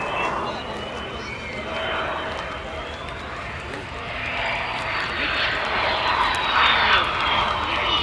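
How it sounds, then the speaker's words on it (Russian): A Sukhoi Su-35 fighter jet lands at touchdown with a loud, steady engine roar, swelling slightly as it passes close by, with a voice faintly underneath. "посмотрим момент касания самолета"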